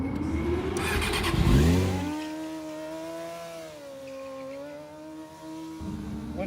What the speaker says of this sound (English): letting out the clutch and dumping the gas at the same time